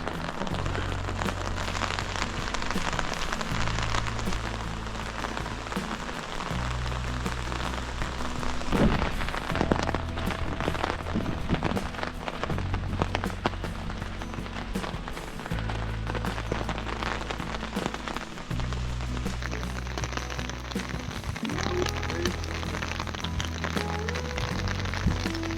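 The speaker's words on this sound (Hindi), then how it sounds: "कल रात से ही बारिश हो रही है" Rain falls steadily at Narayan Ashram, a dense continuous hiss of drops that runs unbroken throughout, with a low rumble underneath and no voices.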